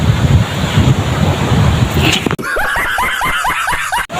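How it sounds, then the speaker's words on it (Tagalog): Ocean waves at Himaya Beach roll in as a broad surf wash with heavy wind buffeting the microphone, then cut to a burst of high, excited voices and laughter near the end. "sa makikita mo naman may alon"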